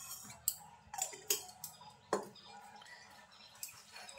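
Sliced potol being mixed by hand with onion, chilli and mustard oil, giving soft irregular wet squelches and light clicks against a bowl, faint and close, with no talk.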